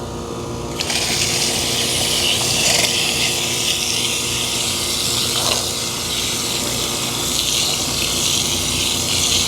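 Water gushing steadily from a hose or bucket into a concrete mix for a whole-house generator pad, a loud continuous pour that holds for the full stretch with no talk.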